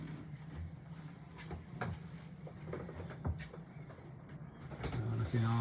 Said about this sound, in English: We can open up this door back into the main saloon.